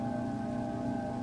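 Steady rain falls in the Minecraft video game, a constant even hiss with a low hum underneath, sounding mid-distance and moderate in level, with no voices.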